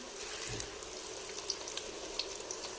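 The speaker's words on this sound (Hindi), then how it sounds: "तो दूसरी भी हमने इसी तरह फ्राई करनी है" Puri frying in hot oil, a faint, steady sizzle with small scattered crackles and pops, heard alone at a low level.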